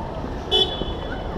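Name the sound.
car horn honking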